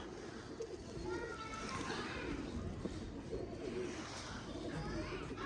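Sialkoti pigeons, rooftop breeder birds kept in a home loft, coo softly and repeatedly in a steady murmur, with children's voices and other talk mixing in the background throughout.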